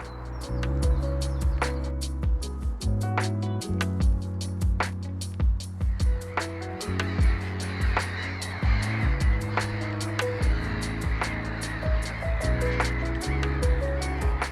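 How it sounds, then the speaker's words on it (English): Seagulls calling beside a canal, a run of repeated harsh cries that come in quick bursts and overlap, fairly close and clear over a steady background murmur. "The seagulls are up."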